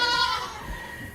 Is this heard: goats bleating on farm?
yes